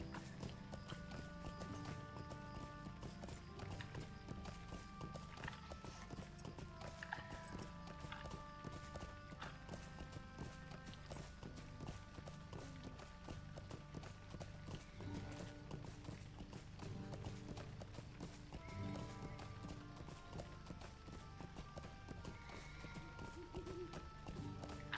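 Hooves clip-clop steadily in the online game Lord of the Rings Online as a horse travels, a continuous rhythmic clatter with an occasional whinny, quiet and mixed with soft background game music.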